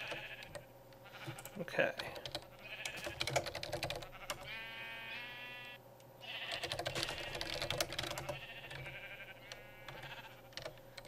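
Sheep in the Minecraft video game bleat in short wavering calls, mixed with brisk keyboard typing and a brief spoken word.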